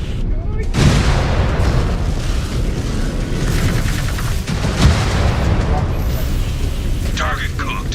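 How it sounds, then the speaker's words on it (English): Missile explosions in a mech combat video game: heavy booming blasts and rattling gunfire-like bursts, loud and dense, with spoken voices layered over the battle noise. "Incoming missile."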